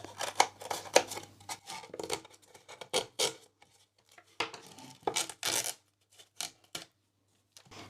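Scissors snip through canvas in quick, close bursts for autumn farmhouse craft decor, mixed with tearing and ripping of the fabric, broken by short pauses with no talking.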